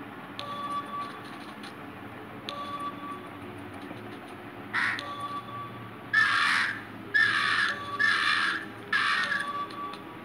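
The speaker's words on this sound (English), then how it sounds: "You thought you could get me, Mr. Crow?" Crows in the video game Monument Valley give a series of harsh caws, one after another, in growing bursts over a low ambient game backdrop, with no talking.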